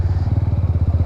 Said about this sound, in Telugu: స్టాక్ ఎగ్జాస్ట్ మీదనే ఉన్నట్టుంది, సౌండ్ డీసెంట్గా వస్తుంది సైలెంట్గా